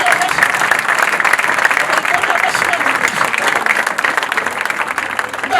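A church congregation at a Sunday service claps steadily, with dense, sustained applause filling the whole stretch and a few voices mixed in.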